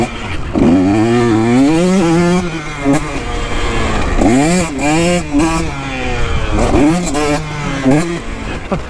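A KTM 125 SX dirt bike revs hard on a rain-soaked motocross circuit, its engine note climbing and falling in repeated rising sweeps, loud and close, with someone talking over it.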